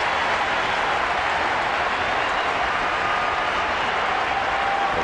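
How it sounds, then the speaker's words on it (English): Crowd noise at a Major League Baseball game between Kansas City and Minnesota, a loud, steady wash of cheering and roaring from the stands that continues without a break, with no distinct voices standing out. "And the crowd starting to make some noise here."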